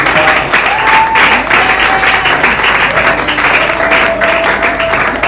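A church congregation applauds and claps together in praise of the Lord, a loud, dense crowd of clapping with voices and sung tones rising over it.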